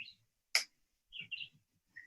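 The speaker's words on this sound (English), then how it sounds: "Oh, I might hear some birds." Birds chirp outside an open window, a few short, faint high tweets separated by brief pauses, with no talking.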